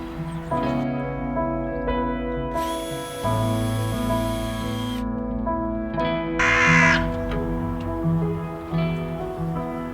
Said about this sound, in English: we've got some resident crows just moved in to a tree near here